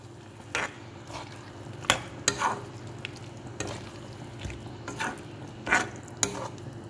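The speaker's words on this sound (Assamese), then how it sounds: "মই ইয়াত এতিয়া মাছৰুমখিনি ঢালি দিম। দেখিছেনে? তাৰপিছত এনেকৈ লৰাই দিব।" Mushrooms are stirred and fried in a pan, giving a low steady sizzle broken by sharp scraping clicks and knocks from the spoon at irregular intervals, with no speech.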